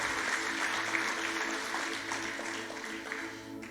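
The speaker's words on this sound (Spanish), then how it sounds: "Give a round of applause to our Lord." A church congregation claps together, a dense, sustained round of applause that stays loud for the whole span and fades only slightly toward the end.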